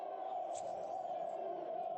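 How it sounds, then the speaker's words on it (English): A basketball crowd at a league quarterfinal chants in unison, a distant, muffled roar that holds steady throughout. "Oh, the crowd is chanting"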